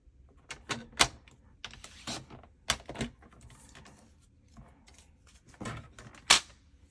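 Cardstock cut down to size for a fan fold card: a string of sharp, close snips and clicks at irregular intervals, fairly quiet overall, with no talking.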